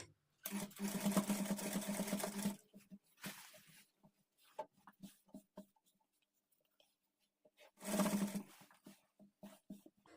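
A sewing machine runs in two close bursts while stitching a strip onto a lehenga: a longer two-second whir, then a shorter one later, with faint handling clicks of fabric between.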